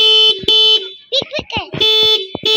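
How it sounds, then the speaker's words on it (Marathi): A child's toy vehicle horn sounds in several bright, electronic-sounding bursts, some long and steady and others short, close and loud, with children's voices talking and calling between and over the honks. "हे हॉर्न वाजवायसाठी आले."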